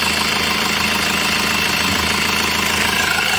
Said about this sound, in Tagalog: Pero ang ganda pa rin ng tunog ng makina.